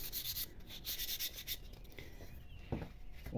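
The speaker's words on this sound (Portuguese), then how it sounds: "Então uma lixa aí de 220, talvez até mais fino. Você dá uma lixadinha assim" Light hand sanding of wood with 220-grit sandpaper, a soft scratchy rubbing in short repeated strokes, fairly quiet and close, with a brief louder scrape near the end.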